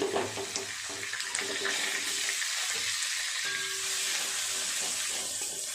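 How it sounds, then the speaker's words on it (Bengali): Dry chillies, cumin, bay leaf and garlic fry in oil with a continuous close sizzling hiss and a few soft clinks, steady and unaccompanied by talk. "তেলের মধ্যে ফোড়ন দেব শুকনো লঙ্কা জিরে আর তেজপাতা দিয়ে দেব"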